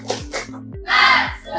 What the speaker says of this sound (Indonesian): Ya, semuanya tepuk semangat.